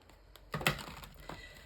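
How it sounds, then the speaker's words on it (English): A deck of playing cards being shuffled and cut, heard as a couple of short, crisp papery riffle-and-slap bursts close by against a quiet room. "cutting up the deck."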